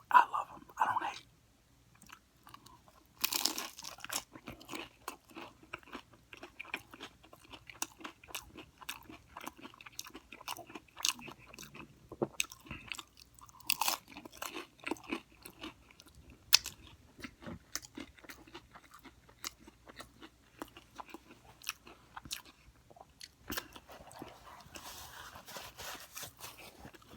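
A crunchy taco with salsa and lettuce is bitten and chewed up close, with steady loud crunching and wet mastication continuing throughout.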